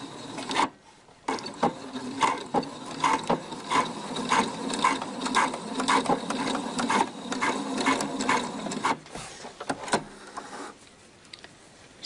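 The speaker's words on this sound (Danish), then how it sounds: "Så jeg lægger dem simpelthen lige over hinanden, og så lige syr frem og tilbage hen over elastikken." A sewing machine stitches back and forth over elastic at the shoulder seam of a girl's dress, making a fast, rhythmic mechanical clatter that starts and stops in several runs, close and alone.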